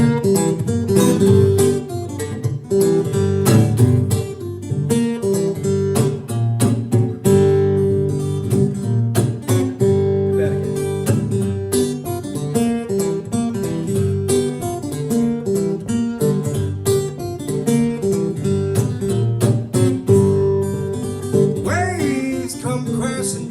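An original acoustic song, played live at a Dusty Strings showcase, with steady strummed or plucked strings filling the clip, loud and continuous with no talking.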